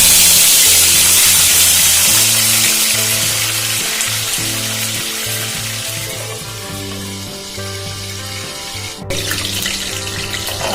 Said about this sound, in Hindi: अच्छे से गर्म हो चुका है, इसमें खड़ा मसाला डाल देते हैं।